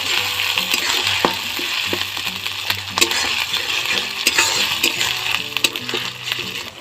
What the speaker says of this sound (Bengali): রসুনটা একটু ভাজা ভাজা হচ্ছে